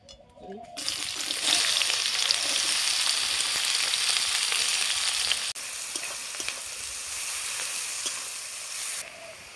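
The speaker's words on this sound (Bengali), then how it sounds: "এবার আমি কড়াই তেল দিচ্ছি গরম হয়ে গেছে এবার পেঁয়াজটা আমি ভেজে নেব" Loud, steady sizzling of onions frying in hot oil in a wok on a clay stove, starting abruptly and continuing as a dense hiss that eases slightly midway.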